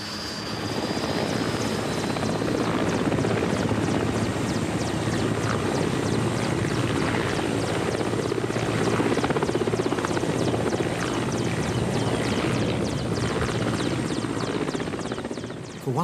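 An old ex-military helicopter run by the private company Kretchet in Russia flies with a loud, steady rotor thump and engine drone heard from inside the cabin, unbroken and close, with no talk.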